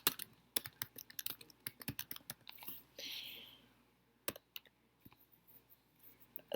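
Quick, irregular keystrokes on a computer keyboard while writing an email subject, crisp close clicks in bursts with short pauses, fairly quiet overall.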